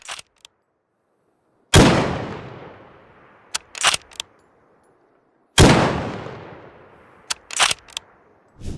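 A G22A2 sniper rifle in a Squad game mod fires two single shots a few seconds apart, each a sharp loud crack with a long rolling echo, followed by quieter mechanical clicks of the bolt action.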